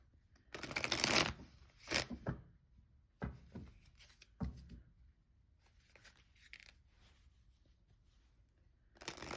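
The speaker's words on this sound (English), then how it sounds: "I'm going to go ahead and pull a couple advice cards here" Tarot advice cards being shuffled and drawn: a loud riffling burst of shuffling, then softer slides and flicks as cards are pulled and laid down, with quiet gaps between, close and alone.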